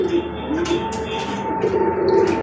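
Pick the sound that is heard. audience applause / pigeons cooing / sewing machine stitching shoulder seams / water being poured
pigeons cooing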